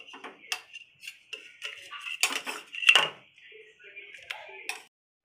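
Steamed vegetable momos are lifted out onto a plate, with close clinks and taps of utensils against dishware coming in short, irregular bursts, and a voice heard now and then.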